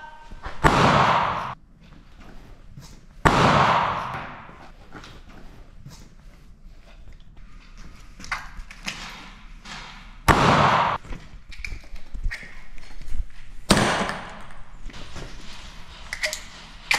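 Airsoft grenades go off during an indoor CQB game, giving several sharp, loud bangs spaced a few seconds apart with echoing rattles, thuds and scuffles in between.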